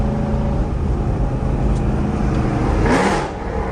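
A rebuilt Dodge Charger with a newly fitted 392 transmission and new tires accelerates hard, its engine rising in a loud, close roar with a brief surge of whir near the end.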